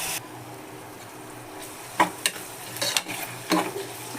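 Onions with salt fry in a pan for an egg podi, a soft steady sizzle broken by a few sharp scraping stirs of a spatula in the second half, close and without talking.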